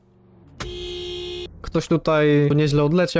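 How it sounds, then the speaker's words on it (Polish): A car horn in the Roblox game Polish Car Driving gives one steady, buzzy electronic tone lasting about a second, followed by someone talking. "Jego klakson brzmi tak."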